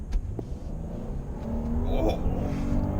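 A big, heavy car with a 3.0 twin-turbo engine accelerates hard, its engine drone swelling and rising steadily from inside the cabin, with some voice-like sound mixed in.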